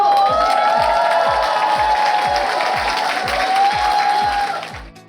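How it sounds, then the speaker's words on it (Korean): Steady applause from a large audience, sustained and loud throughout before fading at the end, with crowd noise and a faint cheer mixed in. "큰 박수!"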